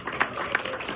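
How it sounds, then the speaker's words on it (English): Audience applause at a restaurant gathering, a short burst of scattered clapping from a small crowd, fairly close and steady throughout. "Let's give that a round of applause."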